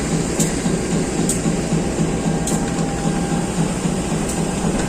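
Inside an economy-class carriage of the Airlangga train, a steady loud rumble of wheels and carriage noise fills the space, with faint periodic clicks over the continuous drone and no voices.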